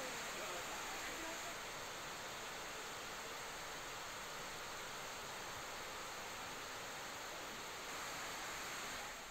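Floodwater from a swollen river rushes over a bridge after heavy rain, a steady broadband roar heard from a distance with no change or break.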